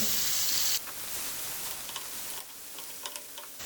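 Chopped onion and garlic hit hot oil in a frying pan with a sudden loud sizzle that settles into steady crackling and small pops, alone without talk.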